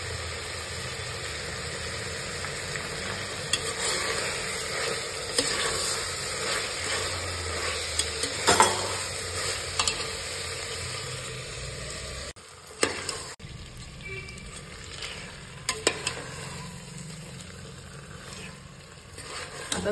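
Biryani masala sizzles and fries in a pan while being stirred, a continuous close crackle with scraping stir strokes and brief clinks, and a short drop-out partway through.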